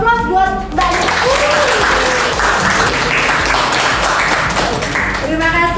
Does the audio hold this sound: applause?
yes